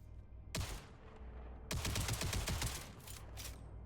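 Rapid gunfire from an infinite-ammo gun in a video game: one short burst, then a longer sustained volley of sharp shots, followed by a few scattered final bursts, loud and close.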